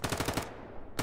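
Gunfire in a first-person shooter game, a rapid automatic burst of shots aimed at the player, loud and close for about half a second before trailing into a rumbling echo, with another crack at the very end.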